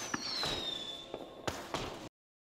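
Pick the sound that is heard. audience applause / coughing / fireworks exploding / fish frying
fireworks exploding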